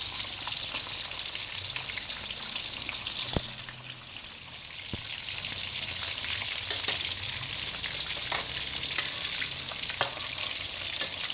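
Fish sizzles and crackles loudly in a hot pan while frying for a fish-with-soy-sauce dish, a constant frying hiss with occasional sharp pops and scraping clicks.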